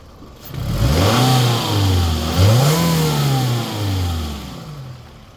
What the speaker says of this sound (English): Engine sounds good. No smoke.